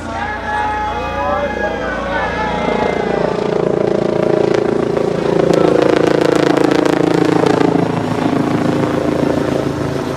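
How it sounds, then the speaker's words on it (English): A helicopter's loud rotor roar swells and thumps as it passes close overhead at a high school baseball game, drowning out faint voices underneath. "Some of you might have heard that helicopter that just went overhead"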